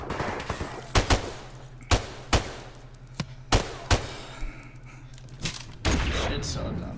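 M16 rifle fire in a search-and-destroy shooter game: a string of sharp single and burst shots, close and loud, spaced irregularly over a few seconds with a brief spoken remark.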